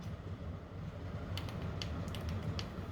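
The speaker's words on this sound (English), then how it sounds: "I start compressing the springs to the maximum point, 51 kilograms I think" A spring compressor tool squeezes three external wastegate springs toward full compression, giving close, quiet creaks and a few sharp mechanical ticks over a steady low hum, with no one talking.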